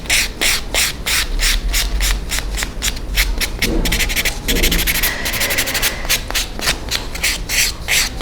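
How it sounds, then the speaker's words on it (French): Coarse-grit nail buffing block worked over gel powder nails, a steady rhythmic rasp of short repeated strokes filling the clip, close and fairly loud with no talk. "je prends mes blocs, le gros grain en premier pour enlever les plus gros coups de lime"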